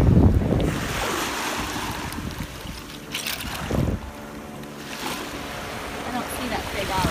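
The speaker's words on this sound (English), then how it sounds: "the waves are crashing up on the beach" Waves crash onto a beach in repeated loud surges and washes, with wind buffeting the microphone throughout.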